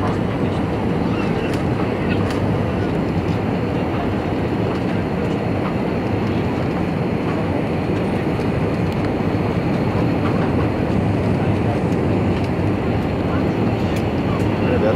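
An airliner on a Sofia to Doha flight lands with a loud, steady cabin roar and rumble that fills the whole stretch, as heard from inside the plane.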